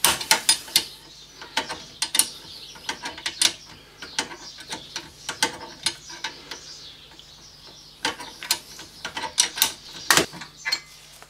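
Ratchet wrench with a 15mm socket loosening the rear brake caliper bolts on a Ford Mondeo, giving bursts of close, crisp clicking in uneven rhythm, pausing briefly and then resuming, with no talking.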